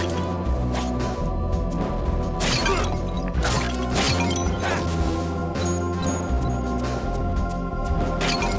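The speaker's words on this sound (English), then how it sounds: "a crumbling skeleton sounds an awful lot like a pot being smashed" A crumbling skeleton in the video game Lunar Knights breaks apart like a smashed clay pot, giving several sharp crashing bursts over steady game music.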